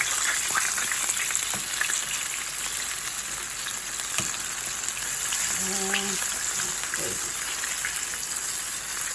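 Portobello mushroom strips frying in a pan, a steady loud sizzle throughout with a few clinks and brief utensil scrapes as pieces are handled.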